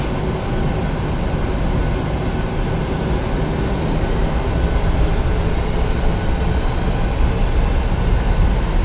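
Airliner engines in a flight simulator game roar loud and steady, a dense broadband rumble that builds slightly as thrust increases for a rolling takeoff, with no talk.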